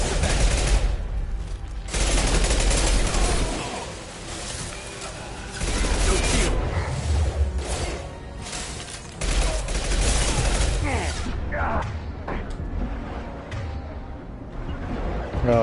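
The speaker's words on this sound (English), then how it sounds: "Firing now. Firing concussive shot." Concussive shot firing in the video game Mass Effect 2, heavy bursts of gunfire and blasts packed densely through the whole stretch, loud and continuous with brief dips.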